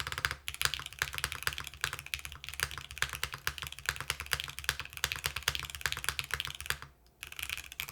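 Rapid, steady keystrokes clatter up close on a mechanical keyboard with a polycarbonate plate, likely a Mode Encore, in a dense unbroken stream with one brief pause near the end.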